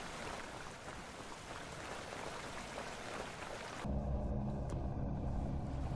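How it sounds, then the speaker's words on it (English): The temporal storm in the video game Vintage Story sets in with soft, rain-like hiss that abruptly swells into a deeper, louder droning rumble partway through, sustained to the end with no talk. "we're getting hit with the temporal storm now"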